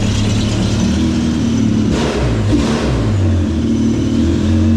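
A jet ski engine being started and revved, a loud continuous mechanical drone whose pitch rises and falls through several throttle blips and never stops, close by with no talking.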